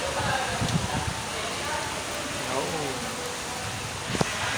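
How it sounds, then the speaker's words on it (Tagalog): Heavy rain falls steadily beside a fish pond, a dense continuous wash that stays constant throughout, with brief voices talking over it. "Ito lakas ng ulan ngayon."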